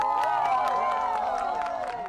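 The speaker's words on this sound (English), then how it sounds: "A cheer erupts as the moon obscures the last traces of sunlight." A crowd in a tiny Spanish village cheering as the total solar eclipse reaches totality, a continuous distant swell of voices and whoops with scattered clapping.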